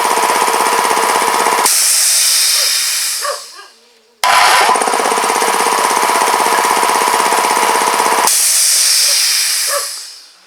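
An air compressor motor runs with a loud, steady mechanical drone and hissing for a few seconds, briefly cuts out, then restarts and runs on again.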